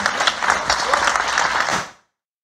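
An audience gives a short burst of applause, brisk clapping that holds steady for about two seconds and then cuts off abruptly into silence.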